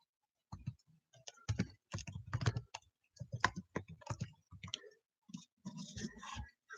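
Someone types on a computer keyboard in bursts of clicking keystrokes with short pauses between, close and fairly quiet, with no talk.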